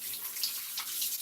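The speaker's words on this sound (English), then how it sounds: "rinse my hands off really quick" Water runs steadily from a kitchen tap as hands are rinsed, a soft close hiss with no talking.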